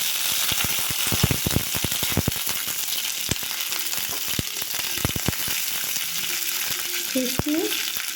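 Cumin seeds and bay leaf frying in two spoons of hot oil in a kadai, a steady loud sizzle with crackling pops and occasional stirring clinks throughout.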